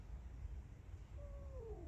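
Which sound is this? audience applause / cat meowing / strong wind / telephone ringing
cat meowing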